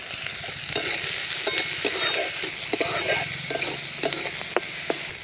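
Carrots, potatoes and beans fry in a pan with a continuous close sizzle, punctuated by repeated stirring clacks and scrapes of a spatula, no one speaking.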